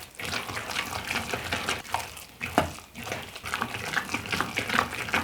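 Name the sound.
stirring creamed corn cornbread batter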